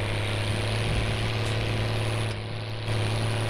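Sonalika 60 RX tractor engine in Farming Simulator 19, a steady loud droning hum with a low tonal rumble, continuous and unbroken, with no voices.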